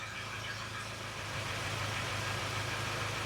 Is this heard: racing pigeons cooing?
no